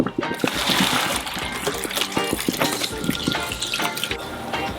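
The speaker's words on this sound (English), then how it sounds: "So the potato now is boiled, so I'm going to drain it now." Boiled potatoes drained into a kitchen sink, water pouring and splashing steadily for several seconds, with clattering of pot or colander and some talk.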